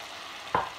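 Softened pork ribs drop into a pan of cooking tomatoes, setting off a brief, sudden sizzle that rises out of a low background hiss.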